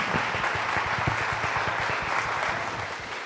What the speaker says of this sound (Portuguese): Salva de palmas para você.